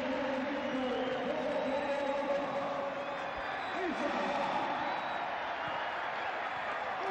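Stadium crowd applauding at a football charity match, a steady dense wash of clapping and crowd noise from start to finish, with a voice talking over it.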